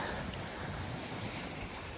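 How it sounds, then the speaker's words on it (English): Ocean waves wash steadily on a shore near Rochester, a broad continuous surf rush mixed with wind buffeting the microphone, loud and close with no talk. "waves have calmed down a little bit"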